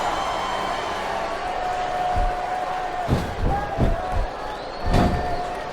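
Video game wrestling crowd from WWE SmackDown vs Raw 2007 during a women's Ironman match, a steady roar of cheering with a few louder swells and thuds toward the end, heard from within the arena under the broadcast ambience.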